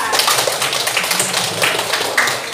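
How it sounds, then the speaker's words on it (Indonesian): A classroom of students gives a short burst of scattered clapping, a dense patter of hand claps continuing for a couple of seconds at moderate loudness. "Tepuk tangan untuk Andika."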